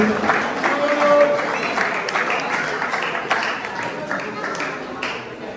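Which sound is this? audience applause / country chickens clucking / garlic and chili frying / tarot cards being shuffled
audience applause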